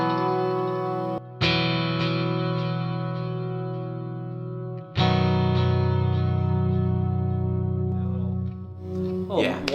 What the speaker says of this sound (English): You can hear some of the modulation in the flutter.